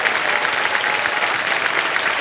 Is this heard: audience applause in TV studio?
yes